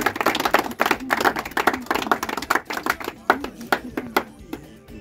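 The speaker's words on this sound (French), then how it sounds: "Un tonnerre d'applaudissements" An audience at a presentation honoring the head of the Bocom group claps in a brisk, uneven patter of sharp hand strikes that thins out and grows sparser over several seconds.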